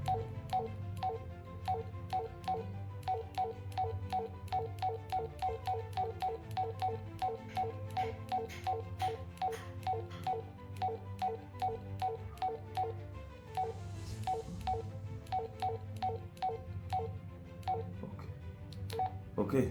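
A Baofeng UV-5R handheld radio in alarm mode gives off a steady run of rapid, evenly spaced electronic beeps, moderately quiet and close, continuing alone throughout.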